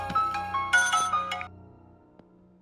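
A mobile phone ringtone plays a bright melodic tune, loud and close, with a few rapid repeating phrases before it cuts off and leaves a faint tail.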